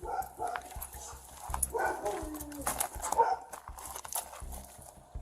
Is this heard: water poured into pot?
no